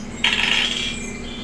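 Percentile dice rolled onto a table during a tabletop game session, a single sharp clatter that tumbles and rattles briefly before fading, with no talk over it.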